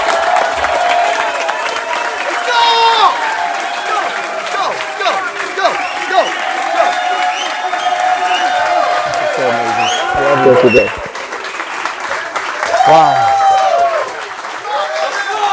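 Large live crowd applauding and cheering steadily throughout, a dense wash of clapping with whoops, while someone speaks over it.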